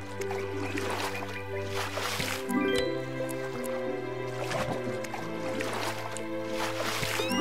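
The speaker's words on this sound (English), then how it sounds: "When I pulled the fish out of the water, it was still thrashing about and it damaged my hand net." A fish thrashes and splashes as it is pulled from the water with a hand net in Hero of the Kingdom, with wet squishing and dripping sounds over steady background music.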